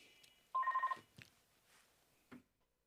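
A telephone bell rings in one short burst of repeated trills during a pause in a family quiz night, followed by faint scattered noises and then near silence.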